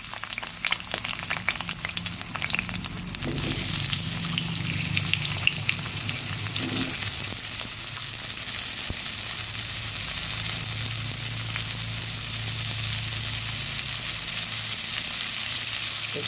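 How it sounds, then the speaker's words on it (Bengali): Potatoes fry in hot oil in a wok, giving a loud, continuous crackling sizzle with occasional stirring clatter early on; no one speaks. "ওই কড়াইতেই আরেকটু তেল দিয়ে আমি আলুগুলো ভেজে নিচ্ছি"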